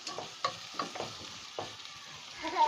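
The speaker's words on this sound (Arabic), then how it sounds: "هسيبها بقى ما تتشوح كده وتاخد لون" Small pieces of meat, cut for an okra stew, sauté in a pan with a soft, steady sizzle, punctuated by several clinks and scrapes of stirring. There is no talking.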